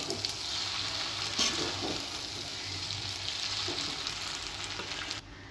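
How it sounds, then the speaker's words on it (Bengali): Noodles being gently tossed in a hot pan for chow mein give a steady sizzle with occasional soft stirring clatters, close and moderate, ending abruptly with no voices. "নুডলসটা দিয়ে দিলাম, এখন আলতো হাতে মিক্স করে দিচ্ছি।"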